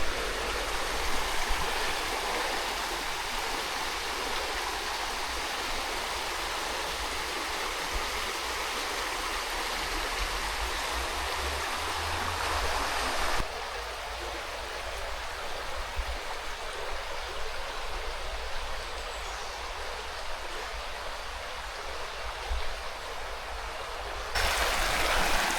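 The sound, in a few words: running water of the River Rivelin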